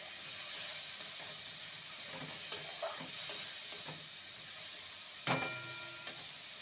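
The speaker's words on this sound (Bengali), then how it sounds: "আদা রসুনকে ভালো মতন কষিয়ে নিতে হবে।" Ginger-garlic paste sautés in a pan for a taro root and prawn curry, a soft continuous sizzle broken by occasional sharp clicks of a spoon stirring against the pan.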